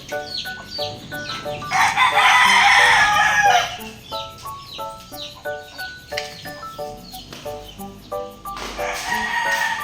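Backyard chickens cluck and chatter steadily nearby while a rooster lets out a loud crow, with further crowing later against the ongoing clucking.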